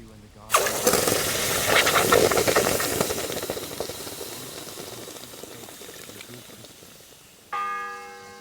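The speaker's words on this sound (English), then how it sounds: "The 6th bell. Half the time is up." Tolling bell in the Kingdom Come Deliverance 2 video game: one loud strike rings out and decays slowly under a steamy hiss, then a second ringing tone begins near the end.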